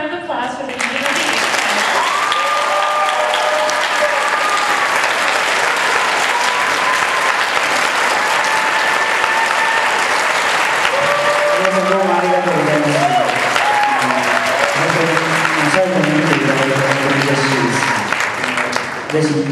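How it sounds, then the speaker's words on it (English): A convention panel audience gives a long, steady round of applause that fills the room, with a voice speaking over the clapping in the later seconds. "Let's give one more round of applause for the evening."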